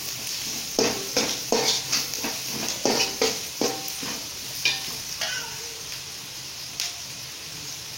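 Onions sautéing in oil in a pan, stirred with a spoon in a quick rhythmic run of scrapes over a steady crackling sizzle, then slower stirs, heard close with no voices.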